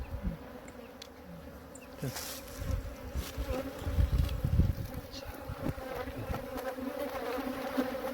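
Korean native honeybees buzz continuously around a hive, a dense droning hum with individual bees whizzing past close to the microphone.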